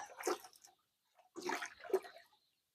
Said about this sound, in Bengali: আমরা একটু এই গরম পানি দিয়ে দিলাম